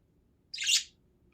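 A wild bird outdoors gives one brief, bright chirp, fairly close, against near silence.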